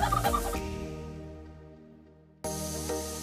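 A white Holland turkey tom gobbles in a loud, dense burst, falls quiet for about two seconds, then starts a second gobble close by.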